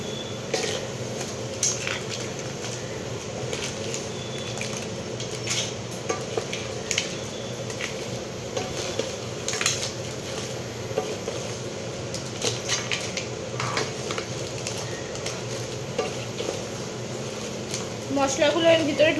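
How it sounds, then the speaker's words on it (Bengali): Boiled crabs being mixed into cooked masala for crab curry, with soft squelching and scattered clinks of a utensil against the pan under a steady hiss, while a voice talks over much of it. "এই মশলার সাথে এগুলোকে ভালো করে মিক্স করে দেবো।"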